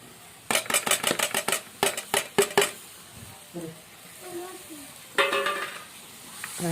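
Soaked lentils stirred in a frying pan with a metal spoon, a rapid series of bright scraping clinks in two bursts separated by softer shuffling and faint sizzle, close and clear, with a brief voice in between.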